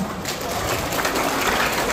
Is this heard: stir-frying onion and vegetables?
no